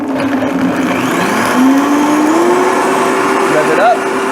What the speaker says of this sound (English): I'm gonna use my Vitamixer, all right?